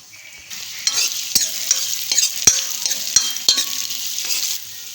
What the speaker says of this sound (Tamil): வெங்காயத்தை உள்ளே ஆட் பண்ணிடலாம் இப்போ இதை வந்து நம்ம வதக்கிக்கலாம்